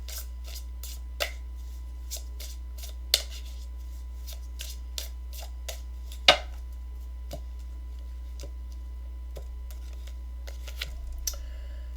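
Tarot cards shuffled by hand in a quiet room, a soft continuous riffling rasp dotted with faint irregular taps and flicks, over a steady low hum.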